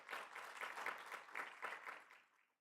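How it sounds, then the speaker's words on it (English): A conference audience gives a short round of applause, a soft, distant patter of many hands clapping that tapers off into silence after a couple of seconds. "we just kind of want to start off with thanking all of you with a round of applause for being here"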